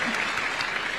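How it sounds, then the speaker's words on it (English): A crowd of audience members applauds steadily at a presidential engagement with graduate interns in Kenya, a dense, continuous clatter of many hands clapping throughout. "A round of applause for her."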